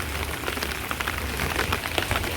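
Steady rain falls on city streets in old Bologna during a walk through the centre, a dense continuous patter with scattered nearby droplet splashes, heard alone without voices.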